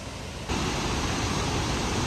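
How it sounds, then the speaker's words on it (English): Cane Creek Falls in Fall Creek Falls State Park, running with heavy water flow after three days of rain, gives a steady broadband roar that starts softer and jumps louder after half a second, continuous and close. "Cane Creek Falls is louder than Fall Creek Falls, but as you can see, it's wider and has more water flow"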